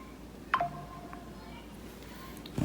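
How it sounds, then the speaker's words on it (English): A faint, short phone notification ping from Instagram chimes once in a quiet room, followed later by a small clink. "you might hear a little ping. That's my phone going off from Instagram."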